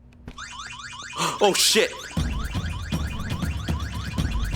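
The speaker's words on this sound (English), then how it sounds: "The alarm was active, guys." A car alarm in the video game VEIN sounds with rapid repeating sweeping whoops at a steady rhythm. A brief loud noise bursts in early, and a person exclaims over it before a low rumble joins the continuing alarm.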